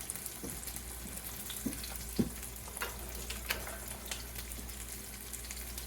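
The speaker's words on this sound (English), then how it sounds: "but I am going to give it a stir." Alfredo spaghetti squash is stirred in a dish, giving soft, faint scraping and clinking taps scattered over a steady low hum.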